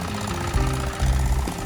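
A 9 hp walk-behind tractor engine running steadily close by, a low throbbing, knocking drone that swells slightly partway through, with no talk over it.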